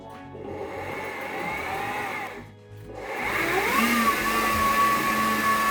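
An electric mixer beats plum cake batter with vanilla essence added, a steady whirring motor drone that dips briefly and then rises in pitch and strength as the beaters work, close and loud with no talking.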